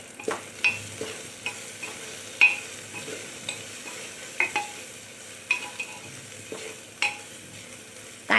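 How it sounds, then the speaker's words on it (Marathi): Onion fries in a pan for mutton curry while a spatula stirs it, a soft continuous sizzle punctuated by regular sharp scrapes and clicks against the pan, near and moderately quiet. "कांदा ट्रान्सपरंट होईल तोपर्यंतच भाजायचं, जास्त भाजायचं नाही."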